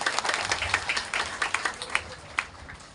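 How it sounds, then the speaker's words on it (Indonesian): A seated audience gives the governor of Lampung a round of applause at a formal gathering, a moderate spread of handclaps with individual claps standing out in an uneven rhythm. "Boleh tepuk tangan untuk Pak Gubernur."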